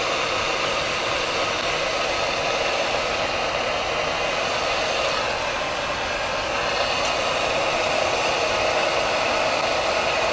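A heat gun held on a part to break a marine Loctite bond gives a constant, loud blowing roar that stays even and unbroken throughout, with no voices.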